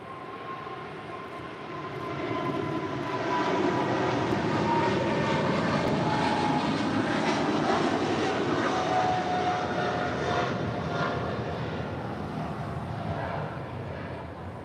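Jet engines of an Eva Air Cargo Boeing 777 freighter departing LAX swell into a loud, sustained roar with a faint whine, holding steady before easing slightly.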